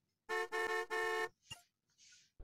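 A car horn in the Grand Gangsters 3D video game blares in three quick honks followed by one long blast, then short clunks and a soft hiss.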